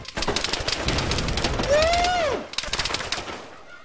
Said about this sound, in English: Oh shit, we're under fire!